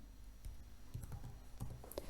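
Faint, quick typing on a computer keyboard: a brisk run of soft key clicks close by in a quiet room, with no talking.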